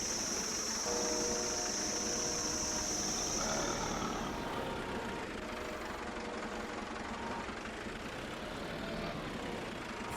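A high-horsepower tractor engine in Farming Simulator idles and knocks with a heavy, continuous low-frequency drone and faint tonal whine, steady throughout and fairly quiet.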